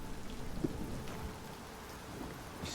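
Steady video game rainfall in the game Sancticide, with a soft low rumble beneath it, even and continuous, with no voices.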